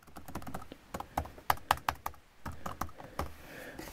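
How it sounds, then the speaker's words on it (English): Keys on the translucent keyboard of an iBook G3 Snow are pressed in a steady run of close, crisp clacks, some louder strikes standing out, with no voices. "The keys feel pretty good, I must say. They sound pretty good."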